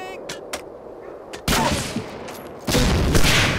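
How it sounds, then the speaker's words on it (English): Enemy gunfire in Medal of Honor: Allied Assault rings out in sharp bursts, with a loud volley near the middle and a heavier, sustained barrage toward the end, over a low ambient rumble. "They're shooting me through this tree."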